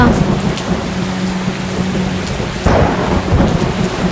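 Rain pours steadily while thunder rumbles, a low roll building into a louder crack partway through.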